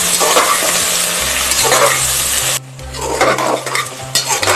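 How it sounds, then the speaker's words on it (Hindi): Onions with whole cardamom pods stirred and fried in a pot for village-style mutton curry, a steady loud sizzle broken by scraping spoon strokes against the metal, close and without talking. "अब इसमें प्याज को डालकर अच्छे से मिलाकर थोड़ी देर भून लेते हैं।"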